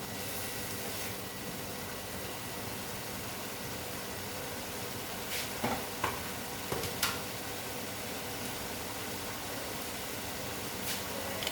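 Matar paneer masala with a pinch of sugar stir-frying in a pan, a faint steady sizzle under broadband hiss, punctuated by a few soft scraping and clinking sounds from stirring.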